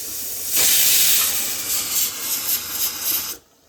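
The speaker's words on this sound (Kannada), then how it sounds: "ಇವಾಗ ಕುಕ್ಕರ್ ಲಿಡ್ ಕ್ಲೋಸ್ ಮಾಡಿ 1-2 ವಿಸಿಲ್ ಬರಕ್ಕೆ ಬಿಡೋಣ." A pressure cooker cooking chicken biryani lets off a loud, steady hiss of escaping steam that starts suddenly, holds with slight wavering for about three seconds, then cuts off abruptly.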